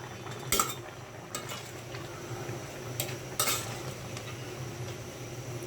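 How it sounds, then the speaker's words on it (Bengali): Fish curry with tomatoes and small potatoes being stirred in a pot, a few distinct scraping clinks of a spoon against the pot over a low steady simmering background. "একটু নাড়া দিয়ে দেখি কি অবস্থা"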